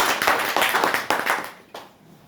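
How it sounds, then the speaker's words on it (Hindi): Dense audience clapping at a speech for Satkam Jayte India Pvt Ltd in Katihar, loud and crowded at first, then thinning and fading within two seconds, with a few scattered claps at the end. "एक बार जोरदार ताली हो जाए।"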